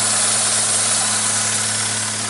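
A Honda Civic EX fitted with a header and stainless steel exhaust idles steadily up close, a continuous loud even engine drone with no speech.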